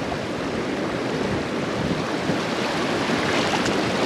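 Icy cold water flowing at Kalabugaw in Bukidnon, a dense continuous broadband rush, steady and fairly close, with no voices over it.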